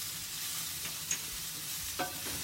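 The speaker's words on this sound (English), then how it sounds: "So let's add in the spices. Look and smell so amazing. Let's stir that up." Spices stirred into sizzling pork chops in a pan, a soft, steady sizzle with a couple of utensil scrapes, fairly quiet and close, no talk.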